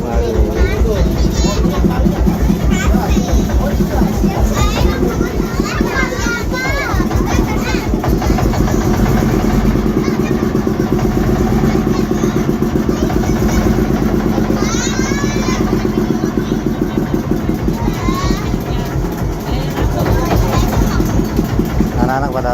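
A small boat's engine chugs steadily and close throughout, carrying schoolchildren home across water in a village without land, with children's voices and someone talking over the continuous motor drone.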